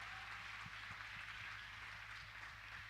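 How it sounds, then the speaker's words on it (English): Audience at a music event, Muscape 2017, applauding in a steady dense wash of clapping that holds evenly throughout without pause. "So a big round of applause for them too"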